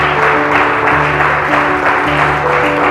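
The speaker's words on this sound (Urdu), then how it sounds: "اگر آپ خوش ہیں تو تالیاں بجائیں" A church congregation claps during a sermon, a dense sustained burst of applause filling the room loudly and evenly with no talk over it.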